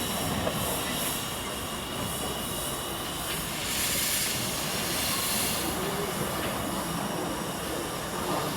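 A steady, rumbling passage of a 60cm narrow gauge steam locomotive in a Paris park, with hissing and metallic wheel noise throughout, fairly loud and continuous, no voices.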